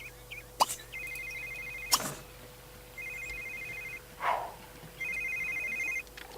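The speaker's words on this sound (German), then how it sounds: "Und es läutet ein Telefon." A telephone rings in The Sims 3, a clear electronic trill repeating in three evenly spaced bursts, with a couple of short game clicks and chimes between them.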